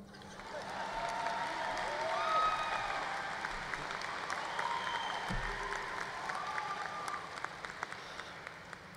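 Steady applause from a large audience at a high school graduation, many hands clapping continuously for several seconds, swelling slightly before easing off, with faint crowd murmur underneath.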